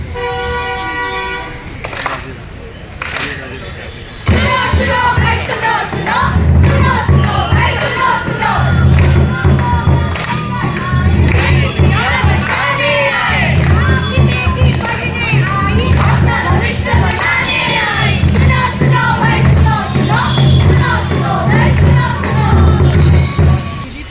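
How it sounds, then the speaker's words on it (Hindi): A large crowd gathers at a street play on a college campus, loud and continuous with overlapping shouts and chants, horn-like toots and voices throughout. "तो वहाँ पर भीड़ जमा होकर रखा है। आई थिंक स्ट्रीट प्ले चल रहा है।"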